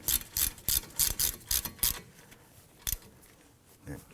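A ratchet runs down the brake caliper bolts on a 2003-2014 Volvo XC90 front brake job, a close, fast burst of clicking strokes that stops, followed by a couple of faint isolated clicks.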